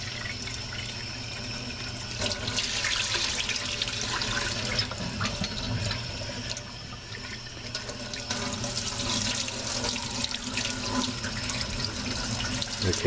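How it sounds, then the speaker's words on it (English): Tap water runs steadily through a mesh screen over sprouting lentils, a close, continuous rinsing splash with uneven surges and spatter for about thirteen seconds and no talking. "I rinse right through the screen."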